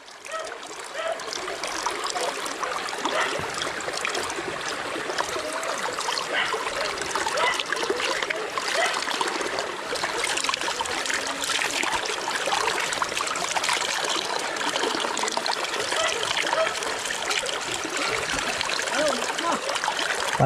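Water from an irrigation pipe trickles and splashes continuously at close range, a steady bubbling flow, while people talk intermittently nearby.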